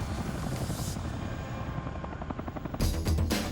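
A helicopter's rotor chops in fast, steady beats over a whining turbine roar, the noise surging louder toward the end.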